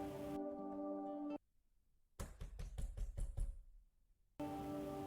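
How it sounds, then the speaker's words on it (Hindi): A knock on a door in a Hindi story: a quick series of about six sharp raps, close and loud, set between passages of soft background music. "फिर एक दिन सुबह, बहुत सुबह, किसी ने दरवाज़ा खटखटाया।"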